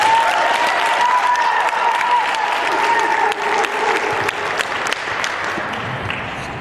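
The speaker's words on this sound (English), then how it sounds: "How about applause for Jordan Yaffe for it?" An audience applauds a person named Jordan Yaffe with steady, dense clapping that fills the room, a few whoops and murmurs under it, fading slightly toward the end.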